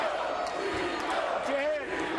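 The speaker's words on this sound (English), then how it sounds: "And again, the crowd rallying behind Corrales" Boxing arena crowd roaring and cheering behind a fighter, a dense and continuous wall of voices heard from a distance, with a commentator talking over it.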